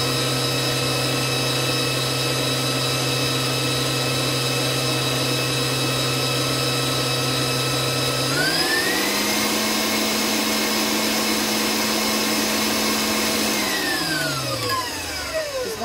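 An electric mixer beats eggs into vanilla cake batter, a steady whirring motor hum that jumps up in pitch partway through, holds at the higher speed, then winds down near the end, with no talking.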